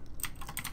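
A brief run of three or four computer keyboard keystrokes while entering a Windows PowerShell command, soft, close and quick, with no talk.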